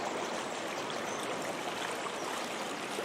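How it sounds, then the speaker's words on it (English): Rushing water of the River Rother swollen after heavy rain, a steady broadband stream roar filling the whole clip at constant loudness with no voices. "you can see how much rain we've had and just how much water is flowing"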